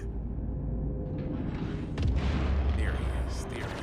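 Spaceship weapons firing in the Star Citizen video game against an Idris, heard as deep rumbling booms and bursts layered over a continuous low drone, loud and dense, with a voice talking over the top.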